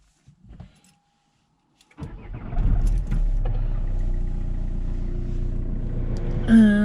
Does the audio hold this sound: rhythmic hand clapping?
no